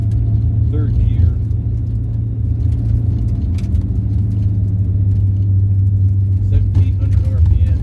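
A Porsche 944 fitted with an LS V8 engine climbs a hill in third gear at low revs. A steady, loud, deep engine drone and road rumble continue throughout, with a brief voice speaking over it.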